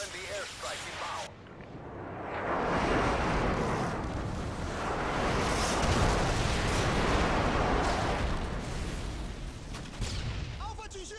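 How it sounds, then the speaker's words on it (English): Airstrike explosions in the game Modern Warfare 2 rumble as a long, dense barrage of booms and crackling blasts, loud and sustained, with game voices calling out briefly. "Friendly airstrike inbound."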